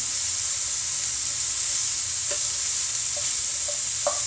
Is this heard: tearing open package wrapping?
no